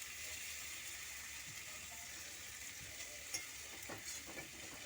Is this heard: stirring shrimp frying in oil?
yes